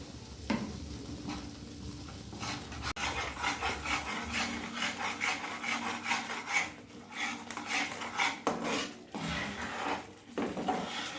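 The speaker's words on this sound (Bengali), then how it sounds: "এবার গ্যাসের ফ্লেম লো টু মিডিয়ামে রেখে আমি নাড়তে থাকবো।" A thick sesame sweet mixture is stirred in a pan over a low-to-medium gas flame, making a steady rubbing, scraping sound of repeated strokes close by.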